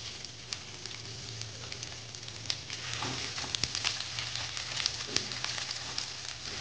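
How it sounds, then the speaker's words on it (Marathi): Ginger pieces fry in a little oil, giving a faint, close sizzle with scattered crackles and pops throughout, no voices. "आता आल्याचे तुकडे परतून घेऊ"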